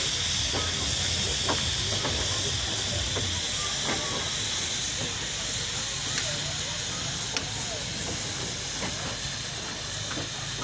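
A Sentinel steam wagon built in Shrewsbury hisses steadily in a steam rally parade at Chester le Street, a continuous broad hiss with low rumbling and faint voices of onlookers in the background.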